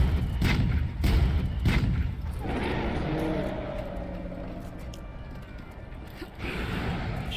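Cannon fire in the Monster Hunter World video game: several heavy, booming shots in quick succession early on, followed by a lingering low rumble and scattered impacts, with game sounds continuing underneath.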